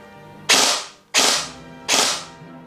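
G&G SR15 E3 MOD2 airsoft electric gun firing a three-round burst: three loud, sharp mechanical bursts in even succession, each ringing briefly before the next, close and with no talking.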